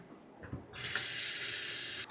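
Water from a tap suddenly starts gushing into a sink, a close, steady rushing stream after a brief quiet moment with a small knock.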